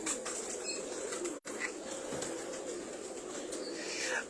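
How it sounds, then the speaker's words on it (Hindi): Teddy and double cross-breed pigeons coo softly, with brief wing flaps, against a constant outdoor background. "ये आपके कौन से कबूतर हैं?"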